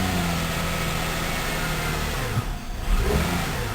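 A Toyota Camry engine with a dirty idle air control valve runs steadily near the microphone, with a low rumbling idle and a brief rise in revs toward the end.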